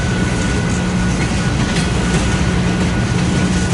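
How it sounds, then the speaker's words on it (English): A BNSF coal train with locomotives on both ends passes close by, producing a loud, steady rumble and rhythmic wheel clatter over the rails with no let-up. "Seen the BNSF coal train with power on both ends."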